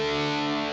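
A short sustained chord on electric guitar through a distorting Supersonic amplifier model, steady and loud with a buzzing, saturated tone and no voice.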